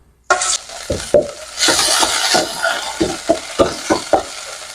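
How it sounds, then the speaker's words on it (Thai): Thai red curry paste stir-frying in hot oil for a pork belly and sour bamboo shoot curry, sudden loud sizzle followed by repeated rhythmic spatula scrapes and crackles, no talk. "เดี๋ยวจะผัดพริกแกงให้มัน สุกก่อนนะครับ"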